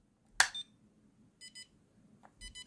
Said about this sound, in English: hopefully you can hear that beeping tone there